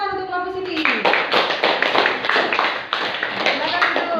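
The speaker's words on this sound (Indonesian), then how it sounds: "Ya, tepuk tangan untuk kelompok sini." Children in a classroom clap for a group in a quick burst of uneven hand claps, close and fairly loud, with a young voice speaking at the start.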